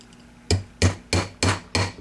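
A nylon hammer taps a pin into the receiver of an Ithaca M49R rifle with five evenly spaced, close, solid knocks, each dull and short in a quiet room.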